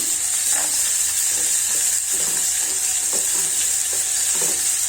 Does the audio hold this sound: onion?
yes